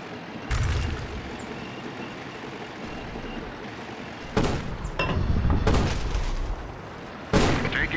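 Heavy gunfire and cannon booms in the tank game Battle Supremacy: a deep blast near the start, then loud clustered shots around the middle and one more sharp report near the end, all over a steady engine rumble.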